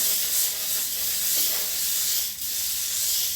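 Chapati batter frying in oil on a hot griddle over medium heat, giving a steady, close bright sizzle and hiss that holds throughout with slight swells, no voices.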